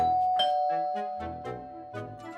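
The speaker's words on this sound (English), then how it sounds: "And then I heard my doorbell ring." A doorbell chimes twice in a clear ding-dong pattern with sustained ringing tones, sounding close and alone with no talk.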